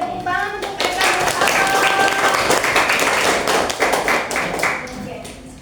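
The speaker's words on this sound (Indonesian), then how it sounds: "tepuk tangan untuk Eka." Applause from a classroom of students during an English lesson, a dense burst of many hands clapping that fills the moment, with scattered voices and brief whistling tones mixed in.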